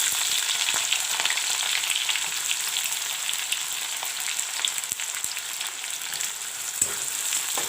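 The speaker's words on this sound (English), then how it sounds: "Let the onions turn a bit golden brown." Chopped onions fry with dry chilies and cumin seeds (jeera) for a village-style egg curry, giving a steady, close, even sizzle with faint crackles and stirring scrapes throughout, no voices.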